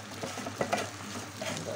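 Onions frying in a pan, a soft steady sizzle broken by a couple of quick scraping stirs, close and fairly quiet.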